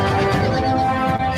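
A horse gives a long, loud whinny, close and sustained, its tone steady and strained, with no talk over it.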